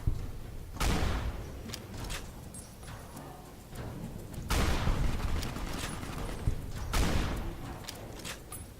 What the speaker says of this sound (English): Now it's time to begin shooting.